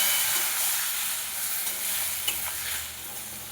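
Spice paste with turmeric and a splash of water sizzles and is stirred in an open pan while being sautéed for a drumstick curry, a constant close hiss and crackle with no talking.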